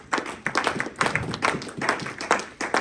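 A church congregation claps together at a Sunday service, a steady run of crowd applause with dense overlapping hand claps lasting a few seconds, moderately loud and with no voices on top.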